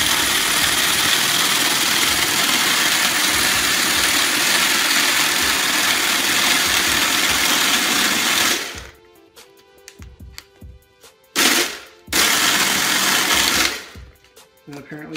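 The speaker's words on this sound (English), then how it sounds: "when you push down on it, that'll push the trigger and it'll start spinning the lid down at the bottom" A Little Snowie Max snow cone machine grinds and shaves ice with a loud, steady motorized whir for about eight seconds, then stops; two shorter bursts of grinding follow after brief pauses.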